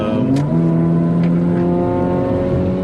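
A car engine drones loudly and steadily while driving, its revving tone sliding gently in pitch, heard close and alone.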